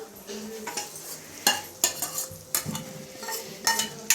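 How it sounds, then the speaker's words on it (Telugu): Boiled dal is added to a hot tadka and stirred, with scattered scrapes and clinks of a spoon against the pan over a faint sizzle, close and irregular, with no voices. "ఇప్పుడు మనం ఉడికించిన పప్పు అయితే యాడ్ చేసుకుంటున్నాం."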